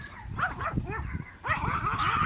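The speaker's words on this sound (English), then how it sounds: "Hope the neighbor's dogs are coming." Neighbor's dogs barking and yipping at a distance in a spring garden, several repeated barks in short bursts that grow busier toward the end.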